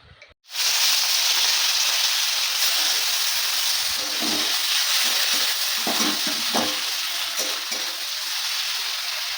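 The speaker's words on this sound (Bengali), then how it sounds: "চিংড়ি মাছটা ভাজা হয়ে গেছে, একটু লাল করে ভেজে নিয়েছি।" Turmeric- and salt-rubbed shrimp hit hot mustard oil in a wok with a sudden loud burst of sizzle, then keep frying in a strong, steady crackle with scattered stirring pops and no voices.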